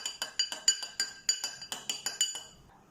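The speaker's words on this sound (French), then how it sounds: "Et je continue à mélanger." A whisk or spoon clinks rapidly against a glass bowl while vinaigrette for potato salad is mixed, about a dozen bright, evenly spaced metallic taps close up, fading out at the end.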